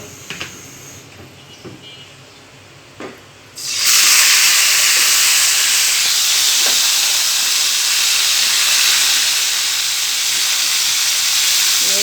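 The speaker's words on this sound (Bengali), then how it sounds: "এদিকে ফ্রাই প্যানে একটু তেল দিয়ে মুরগির মাংসটাকে এভাবে ভেজে নেব।" Chicken pieces dropped into hot oil in a frying pan burst into a loud, sustained sizzle after a few seconds of quiet clinks, then hiss steadily to the end.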